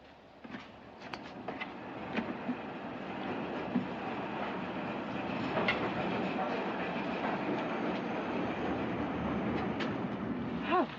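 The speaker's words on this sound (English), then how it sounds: "The train for Ketchworth is now arriving at platform 3." A steam-era passenger train pulls into a 1940s railway station platform with a steady rolling rumble and faint clatter, building slightly and continuing throughout, with scattered station noises on top.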